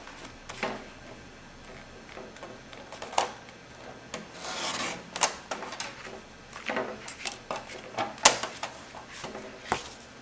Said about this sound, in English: I'm just gonna use my trimmer to pop those off real quick.